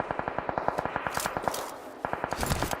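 Rapid automatic gunfire rattles in a PUBG Mobile match, a steady stream of sharp close shots in quick rhythm with a brief pause before the firing resumes.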